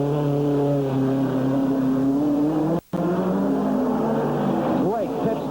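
Cale Yarborough's number 11 stock car pits during the 1980 NASCAR Winston Cup Los Angeles Times 500 at Ontario Motor Speedway, a loud, steady engine drone with a brief cutout midway and a rising whine near the end.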